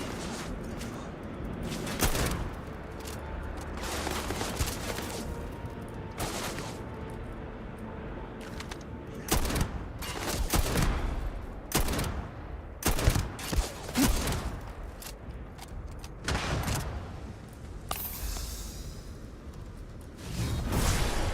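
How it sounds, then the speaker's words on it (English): Enemy gunfire in the game Starfield crackles in dense, irregular bursts and volleys, with whooshing impacts and occasional louder blasts throughout. "These guys are like shooting me through just about everything"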